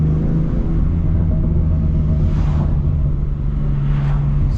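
A BMW F80 M3 CS engine while driving, heard from inside the cabin: a deep, steady, loud engine drone with a constant low hum and slight swells, no talking.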